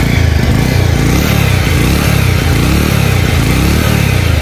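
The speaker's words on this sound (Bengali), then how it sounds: "ইঞ্জিনের সাউন্ড দেখেন একদম স্মুথ রয়েছে এই বাইকটা।" A Bajaj Pulsar motorcycle engine runs close by with a loud, steady throbbing exhaust note, holding an even rev throughout with no voices.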